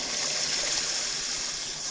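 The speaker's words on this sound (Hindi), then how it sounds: "बड़ा 1 कप हम लोग इसमें पानी का ऐड करेंगे" Water poured into a cooking pan of mixed vegetables (potatoes, peas and carrots) seasoned with ground coriander, a steady near gushing pour lasting the whole moment with no talk over it.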